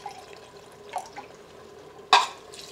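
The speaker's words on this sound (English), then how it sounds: "Adding about a quarter cup of water." Roughly a quarter cup of water goes into a pot of onion soup and browned Salisbury steak in a multicooker. It lands as one quick, fairly loud splash after quiet small drips and clinks.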